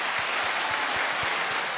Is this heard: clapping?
yes